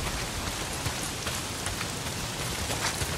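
Steady heavy rain pours down in the video game Days Gone, a dense, even hiss of drops on surfaces with no voices over it.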